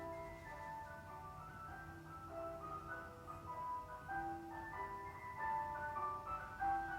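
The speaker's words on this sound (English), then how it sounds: "I like the sound of the ice cream van." A tinkling ice cream van chime plays a bright, repeating melody over low engine rumble, steady and fairly close for several seconds.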